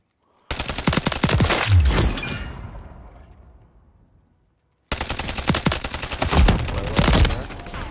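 Loud bursts of rapid automatic gunfire in a video game set in a favela, a long volley that trails off into echoing decay, then a second heavy burst after a brief silence.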